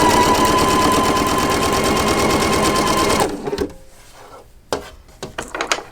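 Sewing machine stitching a flying geese quilt block, running steadily and loudly for about three seconds, then stopping, followed by a few quieter handling clicks and rustles.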